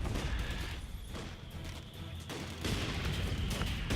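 Infantry rifle fire in the video game Company of Heroes 2, a dense crackling rattle of shots amid battle noise, steady and fairly loud throughout, with no voices.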